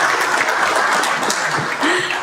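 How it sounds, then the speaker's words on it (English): Audience at a city council meeting giving a full round of applause, loud and continuous throughout, with a brief voice briefly audible near the end. "If they can get a round of applause."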